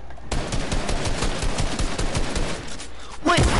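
Rapid automatic gunfire in a video game, a dense run of sharp close shots repeating quickly for about three seconds, ending in a louder burst.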